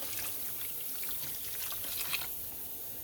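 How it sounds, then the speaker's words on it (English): Water from a measuring cup pours steadily into a soup pot holding frozen broccoli for broccoli cheese soup, a continuous close splashing rush with no talking. "So let's add some water."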